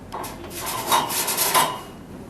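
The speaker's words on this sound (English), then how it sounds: "On a daily basis, pull up your cleaning rakes to clean the heat exchangers." Metal cleaning rakes drag and scrape across the heat exchangers of a Hearthstone pellet stove, a couple of short rasping strokes heard close up and moderately loud with no talking.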